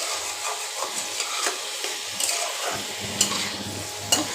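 Potato, soybean and pointed gourd curry stir-fried in oil in a pan, a soft continuous sizzle under scattered scraping strokes of a spatula, with a couple of sharper scrapes near the end and no talking.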